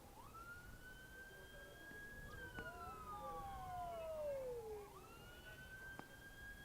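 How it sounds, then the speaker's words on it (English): A siren blares in the distance during a West Indies Championship cricket match, wailing in long rising and falling sweeps that sound faint and steady over a quiet background. "Siren blaring in the distance."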